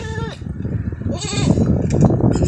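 A brown Anglo-Nubian goat bleats several times in quick succession, loud and close, with wavering cries overlapping a rough background.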